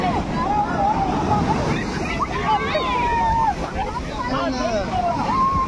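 Ocean waves wash onto the rocky beach at Mahabalipuram in windy weather, a rough continuous surf with wind buffeting the microphone and people talking and chattering nearby.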